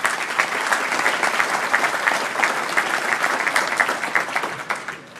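A crowd at a 100-year anniversary event for an insurance company gives a loud, sustained round of applause, dense clapping filling over five seconds and tapering slightly at the end.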